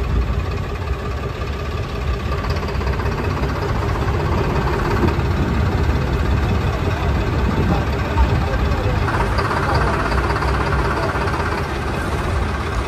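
Tractor engines rumble steadily at idle during a farmers' tractor march at a grain market, a low continuous drone with a person talking over it.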